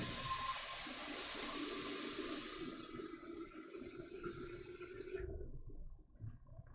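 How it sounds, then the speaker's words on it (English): Water poured into a pan of Kool-Aid dye while dyeing yarn, a steady rushing splash of flowing water that stops abruptly after about five seconds, followed by a few faint drips and low room noise. "I am going to add some water onto that Kool-Aid pan."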